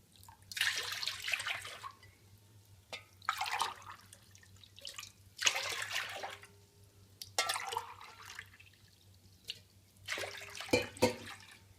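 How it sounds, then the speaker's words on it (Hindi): Plain water is poured from a glass in a home kitchen while making wheat papad, several separate splashing pours repeating every couple of seconds, close and fairly clear against a low steady hum. "और 3 गिलास सादा पानी।"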